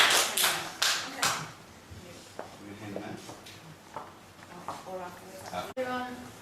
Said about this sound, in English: a nice round of applause, please, for Mr. Chris Thompson.